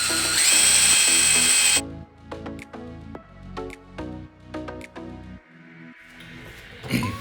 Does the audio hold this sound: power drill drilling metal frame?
yes